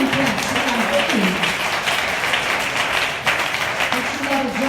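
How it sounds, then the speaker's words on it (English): A church congregation claps and applauds during a sermon, with steady scattered hand claps that keep going under a preacher's loud, raised voice. "I got a few hand claps."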